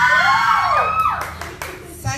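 A crowd at the Miss Tagpuan candidates event claps and cheers for Sanya Lopez. Loud vocal cheering and whooping with rising shouts carries over scattered clapping in a short, lively burst.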